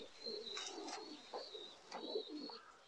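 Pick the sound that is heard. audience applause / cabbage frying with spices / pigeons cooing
pigeons cooing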